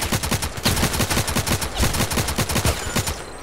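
Assault rifle gunfire in the Contract Wars shooter, a fast, evenly spaced string of close, loud shots that keeps going for the full few seconds with no pause.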